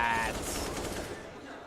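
Rapid AUG rifle fire in a Counter-Strike: Global Offensive match, a dense burst of loud overlapping shots with reverberant tails, under an energetic caster voice.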